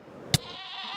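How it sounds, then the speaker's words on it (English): A screaming goat in Minecraft lets out one short, sharp bleat against a faint, steady game background. "the Screaming Ronaldo, which is a goat"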